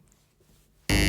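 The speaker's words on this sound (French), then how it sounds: "le buzzer l'a bien dit pour moi, non" A quiz-show buzzer blares suddenly after near silence, a single loud, harsh, sustained electronic tone that holds steady to the end.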